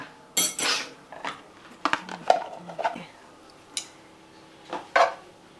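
Metal tongs clatter and scrape against a frying pan while moving butter around, sharp irregular clinks spaced across the moment, fairly close and clear.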